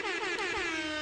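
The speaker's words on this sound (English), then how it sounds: "I'm going to give it an air horn" A loud air horn blares in one continuous, brassy blast that fills the whole moment.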